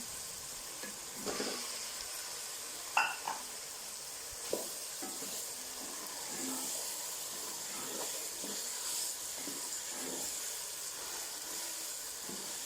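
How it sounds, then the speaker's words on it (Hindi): Chicken and chickpeas sizzle steadily in a hot pan with a constant frying hiss, broken by scattered scraping and clanking strokes of a spoon stirring the pieces, close and moderately loud, with no talking. "चिकन की बुनाई कर लेते हैं, तो फिर इसमें हम बाकी अपने चने डालेंगे।"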